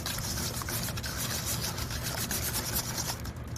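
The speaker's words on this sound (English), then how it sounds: "Okay, so we're just gonna keep whisking this" Eggs and sugar are whisked in a bowl for biscotti, giving a continuous close scraping and rubbing texture with a steady rhythm and no voices.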